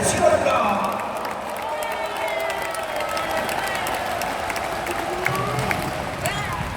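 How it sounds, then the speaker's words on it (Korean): Applause and cheering from a crowd at an outdoor Korean church rally as a pastor is welcomed, steady sustained clapping with crowd noise throughout, moderately loud. "큰 박수를 보내주시기 바랍니다"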